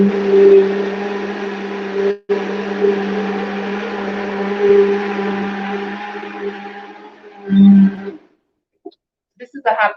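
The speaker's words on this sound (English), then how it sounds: "This is a high power blender," A high-power blender whirs loudly as a fruit smoothie is made, a steady droning motor with a brief cut near the start, running for about eight seconds before stopping, followed by a few small clatters.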